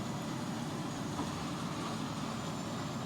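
A low, steady truck engine rumble in the game American Truck Simulator drones evenly throughout, a constant vehicle hum with no breaks or talking.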